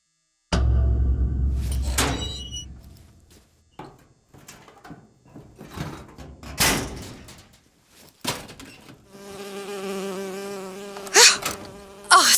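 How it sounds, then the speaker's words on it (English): Insect buzzing from a bee in the Bioshock Infinite video game, heard among scattered game sound effects and clunks, with a steady droning buzz swelling in the latter part of the passage. "Oh, it's a bee. I hate these things."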